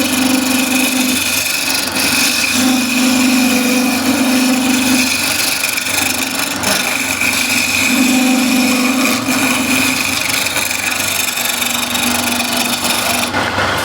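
Steady scraping of a skew blade on wood turning on a lathe, one of the toughest woods to turn, heard as a continuous close rasp over the lathe's hum with a recurring low tone that swells and fades, no talking.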